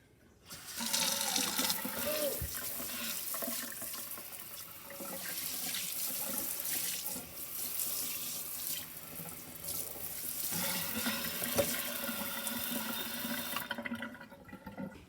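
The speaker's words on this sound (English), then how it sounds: "make sure you rinse your sink for any dirt or leftover food and throw it away in the trash" Tap water runs steadily into a kitchen sink as it is rinsed of dirt and leftover food, a continuous close splashing rush lasting almost the whole time before cutting off at the end.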